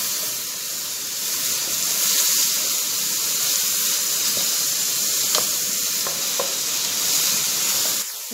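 Salted vegetables and meat for a pasta dish sizzle loudly and continuously in a pan, a dense close hiss with a few faint clicks of stirring near the end.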